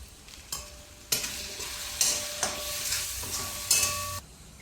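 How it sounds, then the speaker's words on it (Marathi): A spoon stirs an onion and tomato masala frying in oil for pulao, with a steady sizzle under repeated scraping strokes against the pan, close and moderately loud. "आणि मस्त असं तेल सुटेपर्यंत कांदा टोमॅटो एकजीव करून घेते"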